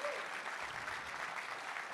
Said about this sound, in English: Let's give another round of applause for the Lincoln High School Gospel Alumni Choir